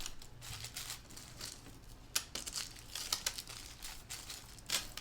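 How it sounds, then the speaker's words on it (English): A plastic bag of small beads is opened and handled, producing close, intermittent crinkling and rustling with sharper crackles and tearing sounds scattered throughout, with no voices. "get your materials and get them out of the bag or the packaging"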